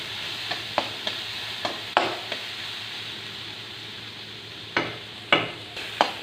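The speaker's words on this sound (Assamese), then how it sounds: "এইখিনি 2 মিনিট ভালকৈ ভাজি লওঁ।" Mung dal fries in a pan with a soft steady sizzle, broken by occasional scraping stirs of a spoon, some in quick clusters and others spaced apart, close and without speech.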